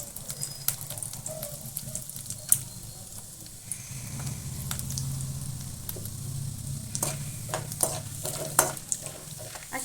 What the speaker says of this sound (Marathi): अशी तळून घ्यायची.